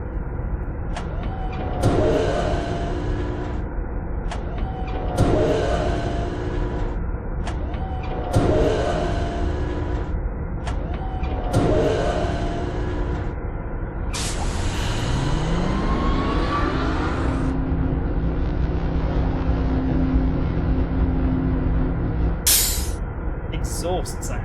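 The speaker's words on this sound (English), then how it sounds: "Exhaust sound." Exhaust machinery in the Selenitic Age of the video game Myst: four evenly spaced bursts of hissing with a tonal whine, then a sweeping mechanical rise that settles into a sustained, steady hum.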